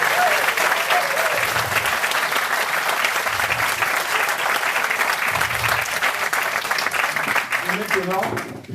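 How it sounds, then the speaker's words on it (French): An audience at a village evening gathering applauds a set of short sketches, sustained steady clapping from many hands over several seconds, with faint voices underneath and a voice beginning just as it fades. "Je vous prie d'applaudir."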